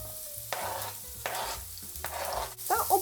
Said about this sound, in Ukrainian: На розігріту сковорідку наливаємо олію, викладаємо цибульку з морквою.